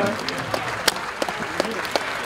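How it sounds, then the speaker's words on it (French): Applause for the FC Cournon football team after its Coupe de France match against Niort, a dense continuous patter of many hands with a few louder nearby claps popping out. "vous pouvez les applaudir encore plus fort,"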